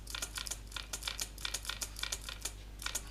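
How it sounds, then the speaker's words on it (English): Rapid, crisp clicking of keys on a wireless computer keyboard, typed in quick irregular bursts over a low steady hum. "That's my keyboard. It's a wireless, so that's why."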